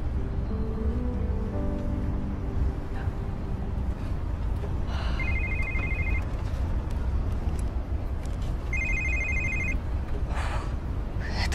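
A telephone rings outdoors on an evening walk, two short electronic ring bursts a few seconds apart over steady street and traffic noise.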